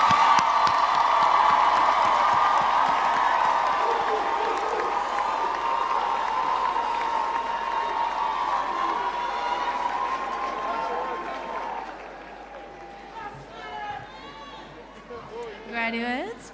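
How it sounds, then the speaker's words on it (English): Large crowd applauding and cheering for graduates at a university commencement ceremony in a big hall, a steady loud wash of clapping that fades after about twelve seconds, with whoops and scattered voices near the end. "Ladies and gentlemen, a round of applause for all our graduates."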